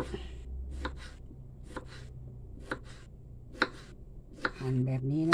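A knife chops through soft santol fruit onto a board in a series of sharp, irregular strokes, close and clear, with a brief rustle near the end.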